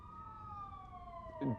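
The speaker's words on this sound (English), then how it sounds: "police sirens slowly get louder in the distance" A faint police siren wails steadily in the distance, its tone slowly falling, with a brief low voice-like sound near the end.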